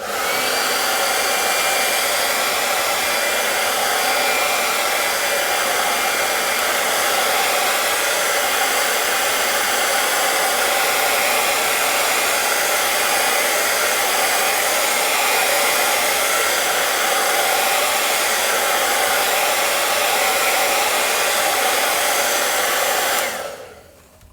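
A hair dryer blows loudly and steadily for a long stretch, then cuts off abruptly at the end.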